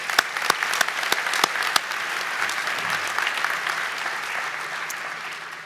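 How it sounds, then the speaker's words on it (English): A crowd at a senior athletic awards night applauds, opening with several loud, sharp nearby claps over a sustained wash of hand clapping that stays even to the end. "So can we give Prudence a round of applause,"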